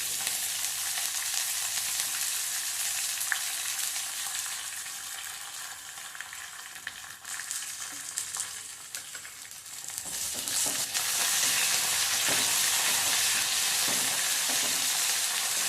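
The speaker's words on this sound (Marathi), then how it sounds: "हे सगळं असं छान परतून घ्यायचंय." Curry leaves and coriander stalks fry in hot oil and are stirred, giving a steady close sizzle with stirring scrapes that grows louder toward the end; no talk.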